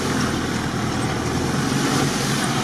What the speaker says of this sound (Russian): Очень классный мотор.